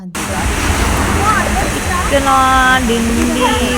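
A waterfall near Srisailam roars as a loud, steady, rushing wash of water, with voices and some tonal sounds rising over it.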